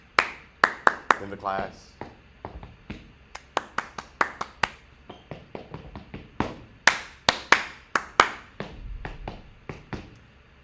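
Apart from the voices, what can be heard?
hands clapping a rhythm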